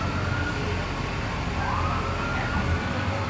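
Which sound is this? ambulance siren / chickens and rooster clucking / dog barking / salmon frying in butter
ambulance siren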